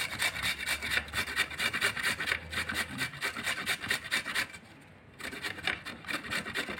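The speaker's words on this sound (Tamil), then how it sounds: "இப்போ வந்து கேரட் திருவுறதுல நல்லா திருவி எடுத்துக்கலாம்" Peeled kohlrabi is rubbed over a carrot grater in quick, even rasping strokes, close and fairly soft, with a short pause before the scraping picks up again.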